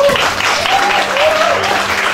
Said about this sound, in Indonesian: Teman-teman yang diberkati boleh berikan tepuk tangannya